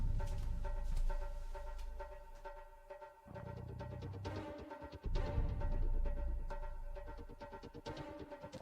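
Dark, brooding industrial-style electronic film score from Con Air (1997), with a low throbbing pulse and hum, mechanical textures rising and falling at moderate volume, no voices.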